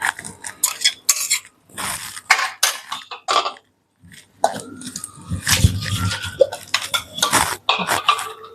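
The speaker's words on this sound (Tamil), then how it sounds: "அடுத்தது வந்து நம்ம கொஞ்சம் மிக்சியை கழுவி ஊற்ற போகிறோம்." A mixie grinder jar being rinsed out with water in a home kitchen: irregular clinks, sloshes and knocks of the jar come close and moderately loud in short bursts, with a brief pause partway through.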